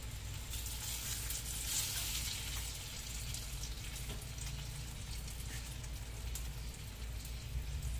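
Tortang talong, an eggplant omelette, fries in a pan with a steady, even sizzle that hisses without pause, with no voices over it.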